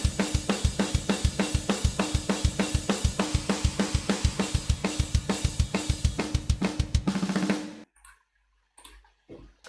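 Fast, tight metal drumming from the Superior Drummer Metal Machine virtual kit, with rapid machine-gun kick and snare hits in a steady driving pattern for several seconds, then abruptly stopping into near silence.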